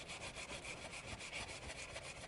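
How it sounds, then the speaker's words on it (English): Brass brush scrubbing soapy sheet metal, a steady rhythmic back-and-forth rasp with regular strokes, close and continuous with no talking. "to clean the sheet metal, I'm going to use some soap and a brass brush, and we'll go ahead and scrub this"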